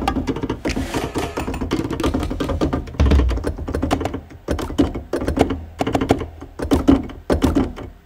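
A custom drum kit built from sampled found sounds for an Afrobeat track: crisp, clicky percussive hits in a busy, uneven rhythm, like tapping and knocking on hard objects, with an occasional deeper thump.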